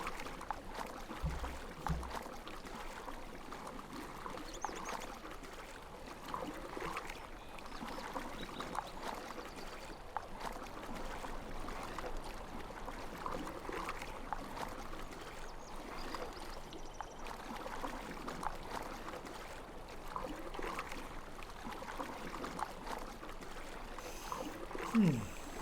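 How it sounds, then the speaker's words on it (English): A horse swims through water in Lord of the Rings Online, a steady wash of splashing and sloshing that runs evenly throughout at moderate level, with no talk over it. "Whee, horse, go for a swim."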